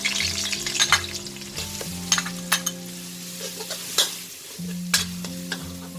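Garlic frying in soybean oil in a pan for a rad na garlic sauce, a steady sizzle with stirring scrapes and occasional clinks of a spoon against the pan, close up with no talking.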